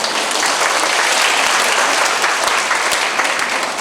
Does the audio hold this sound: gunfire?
no